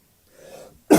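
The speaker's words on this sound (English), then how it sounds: "I've woke up with a cough." A soft, rasping throat clear is followed by one sharp, loud cough up close, all within about a second and with no speech around it.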